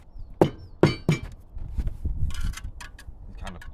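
A bricklayer's trowel scrapes and knocks against a brick: three sharp, close clinking taps, then a short rough scrape and softer scuffs, with no talking.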